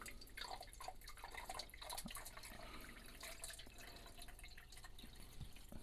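Nutrient solution poured into the base of a DIY hydroponic system, a continuous soft trickle and splash of liquid with dripping, steady and low throughout, with no voices.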